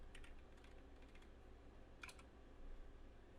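Fingers tap quickly on a computer keyboard in short bursts, close and quiet, with a brief flurry of clicks near the middle and no voices.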